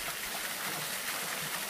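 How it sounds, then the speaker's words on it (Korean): A thin, thread-like waterfall spills down in a forest, giving a steady broad rushing hiss of falling water with no voices, even and close. "실처럼 가느다랗게 내려오지만 아름다운 폭포"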